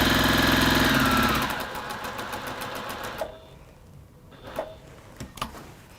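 A sewing machine runs in a loud, steady whirring burst for about a second and a half, stitching forwards and backwards through velvet, then stops, leaving only faint clicks and soft handling noises.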